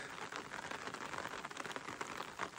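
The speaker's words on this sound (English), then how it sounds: "It's 2:30 in the afternoon and it's still raining." Rain falling during an October backpacking trip in Yellowstone's Bechler Valley, a soft continuous patter with scattered drop hits, fairly faint and steady with no talk.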